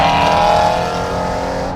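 A GT8 car roars past on the road close by, its loud engine note filling the moment and easing slightly as it moves away.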